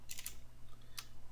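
Computer keyboard typing while coding: a quick cluster of three sharp key clicks, a pause, then one more click, fairly close and soft over a low steady hum, with no talking.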